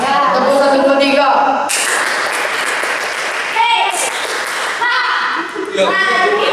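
Youth service group claps in unison on a leader's count, dense bursts of clapping filling the room between shouted voices and some laughter.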